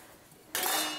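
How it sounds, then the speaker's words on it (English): Homegrown mushrooms dropped into a small stainless steel bowl, a single sudden close clatter of contact against metal that rings briefly, with no talk. "And then put the rest in this little stainless steel bowl"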